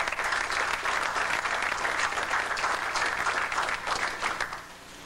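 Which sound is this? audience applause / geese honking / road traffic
audience applause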